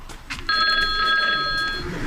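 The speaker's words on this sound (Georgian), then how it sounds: "პასუხე ტელეფონს." A telephone rings in a steady electronic tone that starts sharply and holds, fairly loud and close, with faint background noise before it begins.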